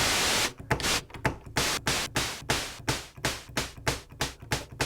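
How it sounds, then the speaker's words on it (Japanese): Rhythmic white-noise bursts from a Roland JD-XA synthesizer shaped into a hi-hat, sounding as a steady series of short, sharply decaying hisses, about three or four per second, alone with no talk. "ハイハットはね、なんたってノイズでしょ。 ホワイトノイズでしょ。"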